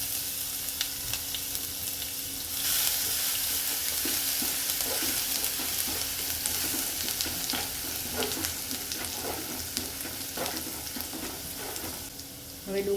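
Ginger, chillies and garlic frying in hot oil with cumin and asafoetida, a loud steady sizzle that jumps up as they hit the pan, with repeated stirring scrapes close up throughout.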